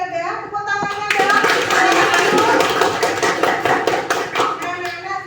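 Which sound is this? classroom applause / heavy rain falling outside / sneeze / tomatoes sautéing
classroom applause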